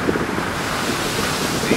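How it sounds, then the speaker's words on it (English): Ocean surf rolls continuously near the shore while strong wind buffets the microphone, a loud, dense wash with no clear breaks and no talk. "That's the ocean."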